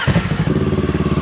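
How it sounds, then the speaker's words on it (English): A Harley-Davidson motorcycle doing a burnout, its engine loud and close with a throbbing, rapidly pulsing rumble held at high revs. "Burnout."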